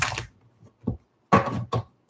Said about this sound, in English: I like to shuffle a little bit in front of you guys so you can see